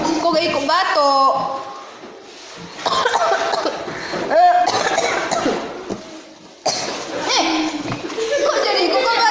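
Someone coughs in short bursts amid lively talk and chuckling indoors, the coughs mixed with voices and laughter.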